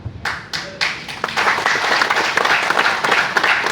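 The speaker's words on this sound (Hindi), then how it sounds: "तुम लेडीज लोग अपने लिए ताली बजाओ" Audience applause breaks out at a lifestyle program in Jorhat, India, starting with a few scattered claps and swelling into steady, dense clapping from a nearby crowd.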